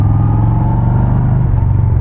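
A Yamaha XV950R motorcycle rides along after a downshift, its engine giving a loud, steady, close low-pitched rumble that stays constant throughout, with no talking.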